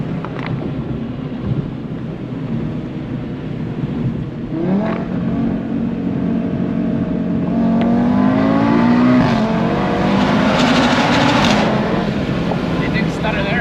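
An Audi RS3 accelerating hard, a loud steady engine roar that rises in pitch as it pulls through the rev range, heard from inside the car with wind noise.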